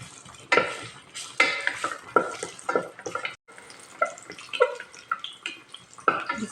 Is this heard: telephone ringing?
no